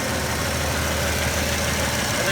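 A 1991 Ford F150 Custom 4x4 engine idles steadily, a continuous close mechanical rumble with faint knocking texture and no talk over it.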